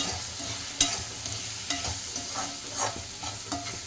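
Chili powder cooks in oil while a utensil stirs it: a soft continuous sizzle broken by repeated scraping strokes and a few sharper clinks against the pan, close and fairly quiet.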